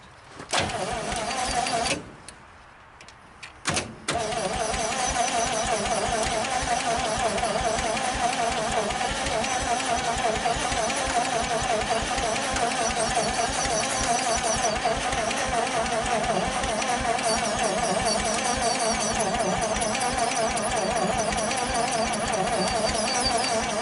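A 1956 Studebaker Golden Hawk engine on first start after sitting, catching after a brief sputter and gap, then running steadily and loudly close by with a rough, uneven pulse.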